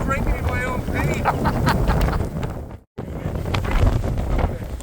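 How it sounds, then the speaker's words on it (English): Strong outdoor wind buffets the microphone in a continuous rough roar, loud and close, with someone talking underneath and a brief dropout partway through. "it's a little bit windy"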